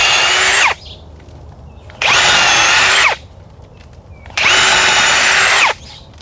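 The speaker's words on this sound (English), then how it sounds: "Pre-drill with our 3/16 inch drill bit." A power drill pre-drilling wood with a 3/16 inch bit runs in three loud, close bursts of high whirring, each lasting about a second, separated by short quiet pauses.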